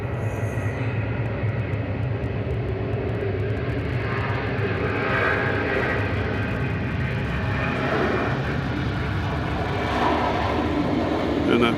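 A UPS cargo airplane at hazy Atlanta Hartsfield-Jackson airport, its engines making a steady, loud roar that holds throughout with a faint swell in the middle.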